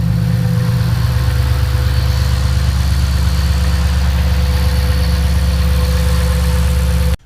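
A 2007 Ford Shelby GT500 engine, tuned for power, idling on a cold day around 27 degrees: a loud, close, steady rumbling idle with a fast even pulse that continues unbroken for about seven seconds, then cuts off.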